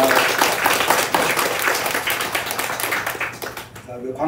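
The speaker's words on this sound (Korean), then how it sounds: "한 번 더 박수 부탁합니다." A congregation at a Sunday morning Pentecost service claps in a warm, crowded burst. The applause is loud and close at first, then thins and fades toward the end, where a voice begins speaking.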